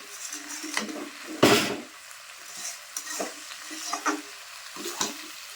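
Chicken kosha being stir-fried in a pan, with a spatula making several distinct scrapes and knocks at uneven intervals over a quiet, close sizzle and no speech.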